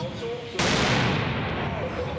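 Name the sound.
firework mortar charge exploding like a grenade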